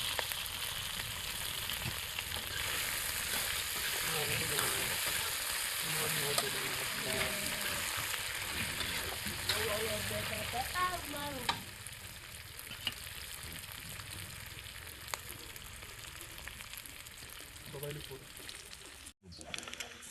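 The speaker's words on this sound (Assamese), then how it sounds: "হালধি দি কিনি মই অকণমান সিজিবলৈ দিম" Turmeric frying in a pan for an eel fish curry, a continuous close sizzle running throughout with faint clinks, while a voice talks intermittently over it.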